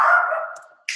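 A dog barks once, loud and close, followed by a trailing whimper and a short sharp sound at the end, heard through an online meeting call.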